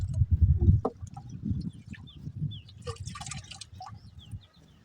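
Liquid pesticide pouring and splashing into a 200-litre water drum, a low gurgling stream with scattered drips, close and moderately quiet, fading out at the end.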